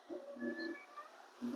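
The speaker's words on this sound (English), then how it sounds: "sorry for my cat" A cat gives two short, faint meows, one near the start and another at the end, with quiet background between.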